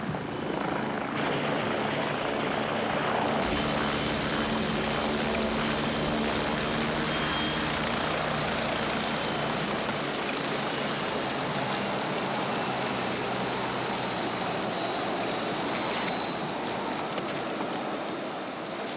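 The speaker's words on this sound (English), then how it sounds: "Here's your helicopter." A loud helicopter runs steadily throughout, its engine whine and rotor thrum filling the clip with a continuous, close roar and no voices.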